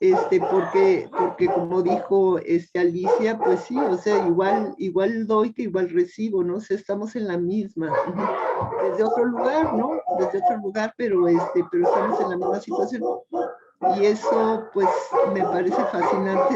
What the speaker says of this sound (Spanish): perdón por los perros, pero ahorita se callan